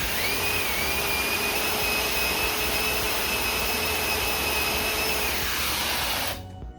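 A hair dryer runs at its maximum speed setting, giving a steady, loud whooshing roar with a faint high whine, then switches off abruptly near the end.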